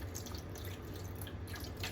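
Chicken broth poured over seasoned chicken, a faint close trickle and patter of liquid running continuously for a couple of seconds, with no talk.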